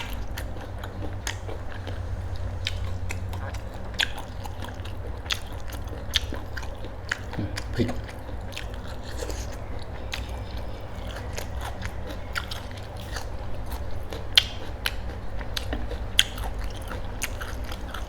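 Close, steady chewing and crunchy bites of a Thai country-style braised chicken dish, oob gai, with irregular clicks and smacks continuing throughout.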